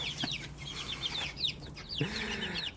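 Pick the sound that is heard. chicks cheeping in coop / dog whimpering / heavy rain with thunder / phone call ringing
chicks cheeping in coop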